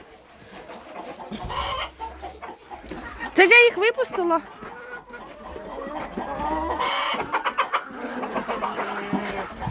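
Hungry farmyard hens cluck and squawk near and loud in a busy flock, with bursts of excited calls, while someone talks over them as eggs are collected.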